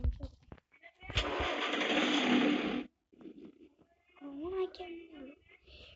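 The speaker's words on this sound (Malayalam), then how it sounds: "തീയ വണ്ടി അങ്ങ് സ്റ്റാർട്ടാക്കിയാലോ." A bus engine starting up in a driving video game, heard as a rough burst of cranking and revving that lasts about two seconds, with someone talking around it.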